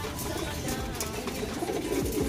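Racing pigeons coo while being fed molasses-sweetened feed ahead of basketing, soft throaty coos and bird murmurs blending into a steady dense background of flock noise and rustle.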